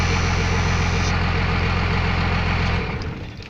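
A 1996 Dodge 2500 diesel truck engine idles loud and steady with a coarse, clattering rumble, then winds down and fades as it shuts off near the end.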